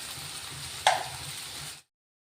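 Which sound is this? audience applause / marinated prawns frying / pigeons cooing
marinated prawns frying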